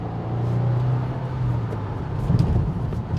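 A 2022 Subaru WRX engine revving quickly past 6,000 RPM, heard from inside the car; a steady rising drone followed by a shift and renewed engine roar, fairly loud and continuous with no talking.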